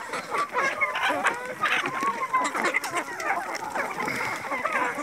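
Chickens eating fermented wheat bran make a dense, close chorus of short clucks that continues throughout.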